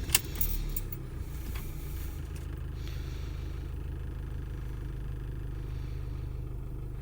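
A 2021 Ford Tourneo Custom van being started: a brief jangle of keys followed by the engine settling into a steady low idling rumble, close and constant.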